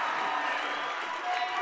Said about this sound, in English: the crowd's coming alive here at Bison Gymnasium